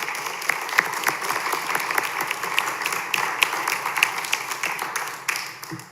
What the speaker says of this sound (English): I think we can applaud now for all 4 of our wonderful candidates.